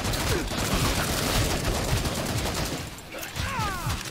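Rapid gunfire from a semi-automatic gun in Killing Floor 2, dense overlapping shots and impacts filling a chaotic, loud game fight.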